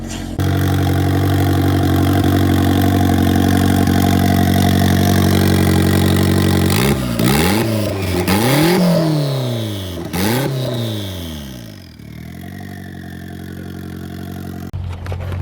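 A turbocharged drift car engine idles roughly, then revs in several sharp blips with sweeping rises and falls before settling back, close and loud, with no talk.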